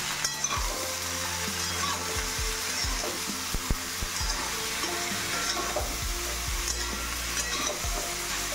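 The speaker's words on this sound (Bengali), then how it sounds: "সমস্ত সবজি ঢেলে দিলাম। ভালো করে ভেজে নিয়ে হলুদ দিয়ে দিলাম, নুন দিয়ে দিলাম।" Vegetables fry with turmeric and salt in a pan, a constant loud sizzle broken by repeated scraping stirs and low knocks of the utensil against the pan, heard close up with no speech.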